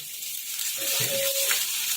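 Whole spices (star anise, two bay leaves, a dried red chilli, cloves, cinnamon pieces and a green chilli) temper in hot oil for sweet-and-sour Gujarati dal, giving a steady, bright hiss that swells briefly midway.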